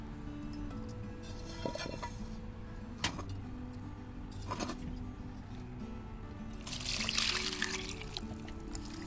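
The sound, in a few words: washing tomatoes and green chillies in water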